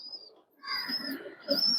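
Domestic high-flying pigeons in a loft give soft cooing and chirping calls, fairly close, with short bird sounds overlapping and a brief quiet gap near the start.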